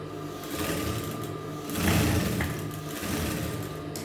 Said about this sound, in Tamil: ஜாயின் பண்ண தையல் மேலேயே இப்படி தையல் போட்டுக்கணும்.